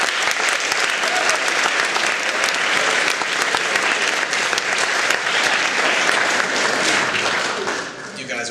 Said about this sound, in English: So give yourself a round of